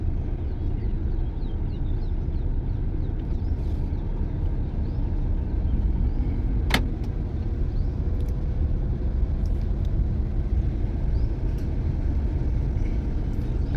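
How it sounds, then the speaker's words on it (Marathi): A car engine idles with a steady, continuous low rumble while someone learns to drive, marked by one brief click midway and no voices. "गाडी चालू करा चावी लावा"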